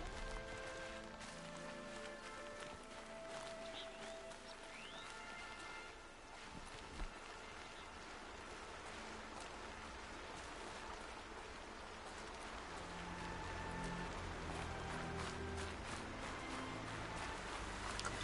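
Rain falls steadily in the Horizon Zero Dawn game world, a dense, even hiss of drops continuing without pause, with faint tonal game sounds underneath.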